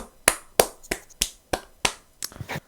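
Slow, separate hand claps, about eight sharp strikes spaced roughly a third of a second apart, close and dry in a quiet room during a mock home award ceremony, with no other sound between them.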